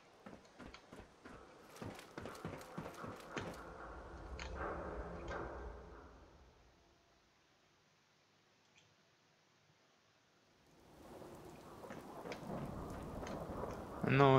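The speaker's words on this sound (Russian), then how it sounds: "Ну, дождика мне тут не хватало." Rain and thunder in the video game Fallout 4: a soft hiss with low rumbling that swells, fades almost to silence, then returns stronger, after a run of quick footstep-like taps.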